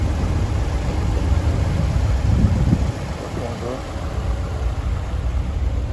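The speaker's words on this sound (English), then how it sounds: "the car is running very well." A Lexus RX 350 gasoline engine idles steadily after a fuel pump repair, a constant low rumble with broadband hiss that eases slightly partway through, with no speech over it.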